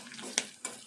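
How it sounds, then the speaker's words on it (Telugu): Onions frying in a pan with green chillies for a carrot and tomato curry, giving a soft, steady sizzle close by with two brief sharp bursts of crackle. "ఉల్లిపాయ కూడా వేగేదాకా వేపుకోవాలి"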